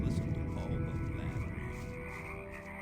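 A dense chorus of frogs croaking steadily at a swampy nest in the video game Gothic 1, many overlapping calls forming a continuous low, loud bed of sound with no talking.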